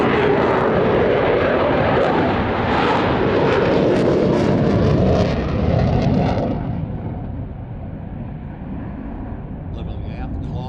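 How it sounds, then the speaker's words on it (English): Jet fighter lighting its afterburner during a high angle-of-attack pass at the Midlands Air Festival, a loud, continuous roaring blast with a crackling edge that holds strong for about six seconds, then eases off into a fainter rumble as it recedes. "Look at this, the afterburner."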